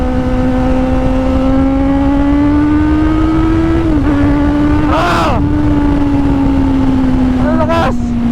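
Kawasaki Z900 SE motorcycle engine pulling hard in third gear, a loud, steady rising drone with brief dips at gear changes or throttle lifts, close-up with wind rush throughout.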